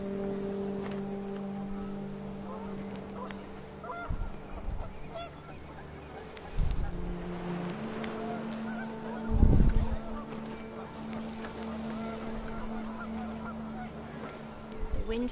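Panicked geese honk in bursts from a What Remains of Edith Finch game scene, over a steady low hum and tonal drone, with louder flurries of calls rising midway and near the end.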